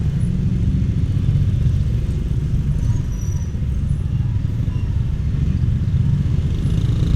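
A motorcycle ridden along a road gives a steady, continuous engine hum and wind rumble, close and fairly loud.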